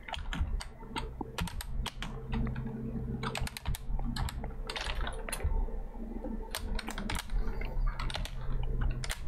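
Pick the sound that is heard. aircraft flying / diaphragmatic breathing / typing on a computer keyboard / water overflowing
typing on a computer keyboard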